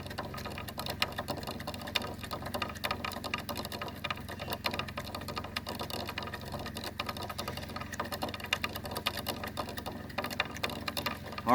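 A fishing reel is wound with 150 yards of line pulled off a factory spool, making a steady, close mechanical whirring and ticking that runs evenly without a break.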